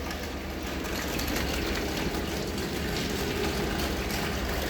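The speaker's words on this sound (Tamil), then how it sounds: "இருபது கிலோ தேங்காய் பருப்பு எடுத்து வச்சுருக்கோம் ஆட்ட ஆரம்பிச்சிடலாங்க" An oil expeller machine crushing twenty kilos of dried coconut copra for coconut oil, giving a loud, steady, grinding mechanical drone that runs unbroken throughout.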